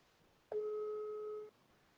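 A telephone line tone heard while placing a call, one steady two-pitch electronic beep lasting about a second, clear and alone over a faint hiss with no talking.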